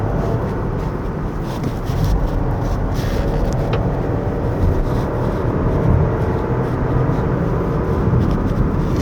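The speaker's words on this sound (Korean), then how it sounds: "안 믿겨지시겠지만 방금 엑셀 다 밟은 거였습니다." A 2025 Chevrolet Trax RS engine at full throttle on a winding mountain road, heard as a steady, muffled cabin drone with road roar and no speech.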